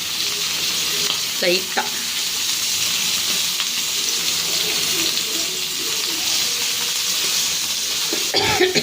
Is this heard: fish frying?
yes